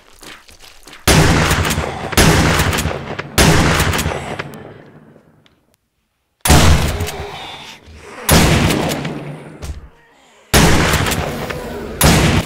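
Shotgun blasts in the zombie survival game 7 Days To Die: five loud, heavy booms spaced roughly two seconds apart, each trailing off, with a short quiet gap midway and no talking.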